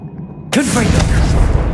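Confringo spell explosion in the Hogwarts Legacy video game, a sudden loud boom that hits sharply and then rumbles on with a sustained roaring tail, a voice calling out over the blast.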